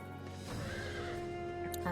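A horse mount in the video game Final Fantasy XIV gives a clear whinny over background game music, with a few hoof clops and sparkly effect sounds near the end.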